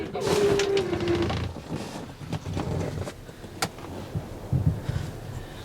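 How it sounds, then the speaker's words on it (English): A rear power seat in a third-generation Cadillac Escalade ESV folds down automatically, with a short electric motor whine near the start followed by soft mechanical clunks, and a voice talking over it. "We can see both of those seats can automatically fold down."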